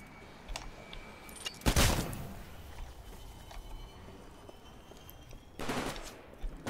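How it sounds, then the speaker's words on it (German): Gunfire in the video game Titanfall, two short loud bursts of rapid shots separated by quieter game ambience and light footsteps. "Die schießen hier auf mich, hä?"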